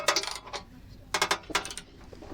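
Bolt on a homemade truck bumper being hand tightened, with several bursts of quick ratcheting clicks in short rhythmic groups.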